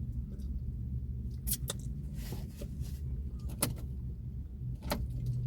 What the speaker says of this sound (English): Let me make sure I cut the car off.